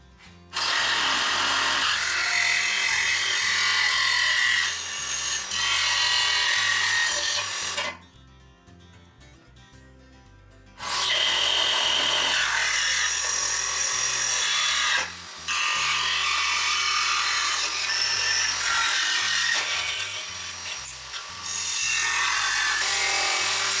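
A power tool cutting wood for boat trailer walking platforms, a loud, continuous buzzing whine in two long runs separated by a brief quiet pause, close up with no speech.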